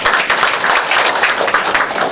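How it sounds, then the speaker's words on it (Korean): An audience at a pharmacist's lecture claps briskly and continuously to welcome the speaker, a close, even wash of hands. "여러분 박수로 윤영호 약사님을 모시겠습니다"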